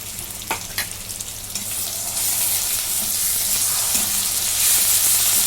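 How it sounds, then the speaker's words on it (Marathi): Onion and masala sizzling steadily in a pan for a mutton curry, a continuous hiss that grows louder toward the end, with a couple of sharp stirring clicks early on and no voices. "आता कांदा हा भाजून घेतो आता कांदा भाजून झालेला आहे"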